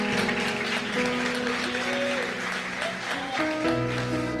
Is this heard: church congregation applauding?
yes